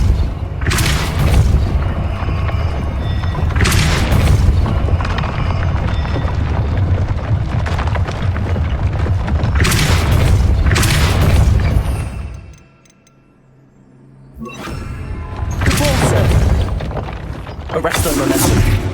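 In the video game Hogwarts Legacy, the Depulso spell sets off repeated deep booming blasts over dense, continuous game action and effects. A short near-silent gap falls before the noise resumes.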